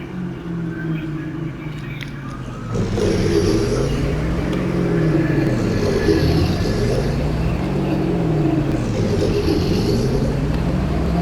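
A pickup truck, the 350, idles and then pulls away, its engine rising and falling in slow rhythmic revs, steady and fairly close, with no talk over it.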